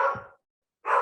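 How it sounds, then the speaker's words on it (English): A neighbor's dog barks twice, two sharp, moderately distant woofs separated by a brief silence. "Do you hear the dog barking?"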